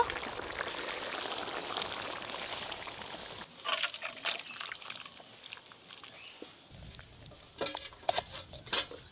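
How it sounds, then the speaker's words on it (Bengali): Cooked pangas fish kalia curry is poured out with a thick wet glugging stream, then pot and utensil clinks and scrapes follow, fairly quiet and close with no talking. "পাঙাশ মাছের কালিয়া তো হয়ে গেল, এবার ঢেলে নেব।"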